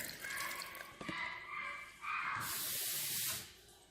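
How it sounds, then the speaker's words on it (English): Water is poured into a blender for a Michoacán-style shrimp enchilada sauce: a steady, close hiss that swells for about a second near the end after softer splashy trickles. "Here you can see about how much water we're going to go ahead and put in the blender"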